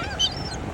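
A single short honking call from an aggressive bird that barks at and chases people, close and fairly loud, lasting under a second.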